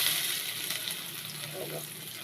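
Garlic and a green chili frying in hot oil, a dense, steady sizzle with crackling spits, close and fairly loud throughout.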